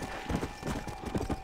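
Horse hooves clip-clop in the Red Dead Redemption: Undead Nightmare video game, a quick, even run of close hoof beats that carries on steadily with no talk over it.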